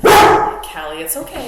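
A dog named Callie barks indoors at home, one loud sharp bark at the start followed by softer yips while someone speaks gently to her.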